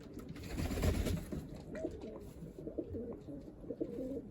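A pigeon coos repeatedly in low, soft, rolling phrases, close by, against a faint background hum.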